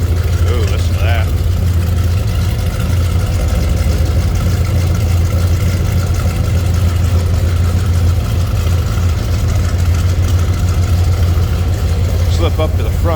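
A 1981 Chevrolet El Camino idles with a steady, loud, low exhaust rumble that holds throughout. Faint voices and handling noises sit over it now and then.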